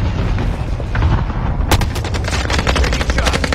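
Battle royale video game gunfire rattles in rapid automatic bursts over low explosive rumbles and booms, dense and loud, with a sharper volley of close shots kicking in midway.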